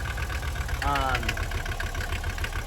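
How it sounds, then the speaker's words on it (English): A Mercedes engine idles very low and rough, a steady low rumble with uneven shaking, and a brief voice rises over it partway through. "That's a really low idle"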